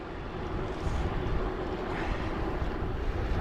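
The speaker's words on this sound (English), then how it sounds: "I can feel there's a little bit of a headwind." Headwind rushes past the microphone on a Cannondale Topstone Carbon Lefty e-bike riding a smooth road, a steady, broadband roar of wind buffeting throughout with no talk.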